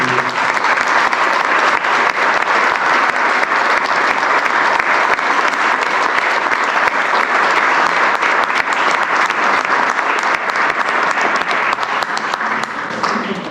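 Sustained, loud applause from an audience at a Spanish-language book presentation, a dense and even roar of clapping lasting the whole stretch with no let-up.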